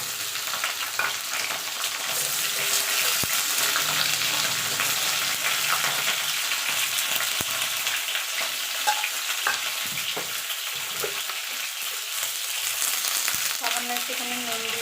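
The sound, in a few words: pointed gourd (potol) and potatoes frying in oil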